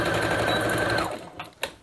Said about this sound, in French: je vais coudre les 2 poches du devant, sur les 2 devants donc